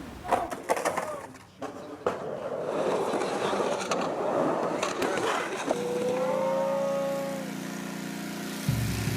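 Skateboard rolling through an empty pool in Fresno, a close rumbling roll with clacks at the start, then a tonal grind near the end before a sudden stop.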